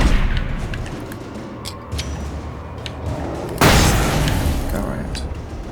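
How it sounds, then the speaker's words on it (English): A flashbang grenade in the Alan Wake video game goes off with a sudden loud, broadband burst about two-thirds of the way through, sustained by a roaring wash over ambient game noise and scattered smaller clicks. "Let's just throw a flashbang right there."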